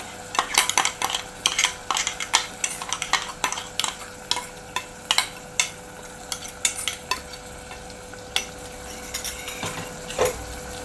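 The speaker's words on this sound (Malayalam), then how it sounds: "നല്ലപോലെ ഒന്ന് മിക്സ് ചെയ്ത് കൊടുക്കാം." A utensil stirs drumstick leaves and ground coconut paste in a pan for a Kerala-style curry, with repeated scraping clacks and a soft simmering sizzle underneath, steady and close for about eleven seconds.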